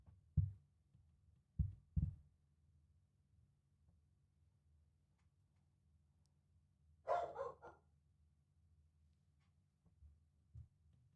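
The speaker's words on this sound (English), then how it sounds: "My dog is barking at my neighbor again." A pet dog barks at the neighbor in a few sharp, low bursts, three early and one near the end, with a brief brighter yelp-like burst in the middle over a quiet low hum.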